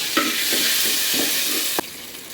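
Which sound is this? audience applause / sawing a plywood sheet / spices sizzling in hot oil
spices sizzling in hot oil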